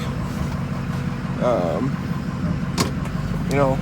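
A truck with a 6.0 diesel engine idles with a steady low rumble close by, running continuously while someone speaks over it.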